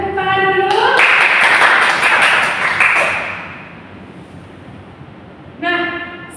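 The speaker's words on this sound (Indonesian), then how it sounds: "Beri tepuk tangan dulu." Schoolchildren in a classroom clap together at the teacher's prompt, a bright burst of rapid hand claps that fades after a couple of seconds, bracketed by a teacher's voice speaking before and after.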